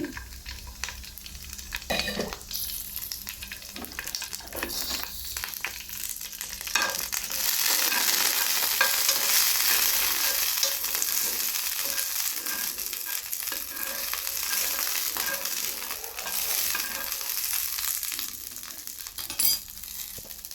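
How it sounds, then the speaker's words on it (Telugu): Green chillies lightly frying in a little oil, a steady hiss that grows louder partway through, with occasional clinks and stirring sounds close by and no talking. "ఇలా లైట్గా వేయించుకోవాలండి పచ్చిమిర్చి"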